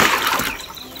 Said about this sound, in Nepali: पानी निकाल्दै फ्याँक्दै